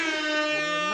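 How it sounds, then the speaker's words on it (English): Air horn sound effect: a single loud, brassy, sustained blast lasting about a second, heard alone. "That's probably my most used sound of all time. The air horn."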